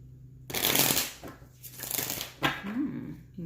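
Tarot cards shuffled close to the microphone in loud, crisp riffling bursts, with a short pause between rounds and a faint voice-like murmur near the end.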